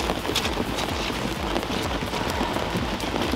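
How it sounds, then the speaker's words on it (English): Rain falling outdoors at a hugelkultur greenhouse build site, a dense, even patter of drops on surfaces, steady and fairly close throughout the short stretch, with no voices. "Well, the rain's a little bit uncomfortable"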